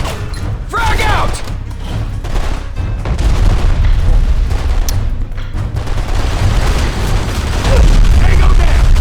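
A frag grenade explodes in the shooter video game BlackSite amid heavy gunfire, with loud booms and thuds in a chaotic battle mix while voices shout over it.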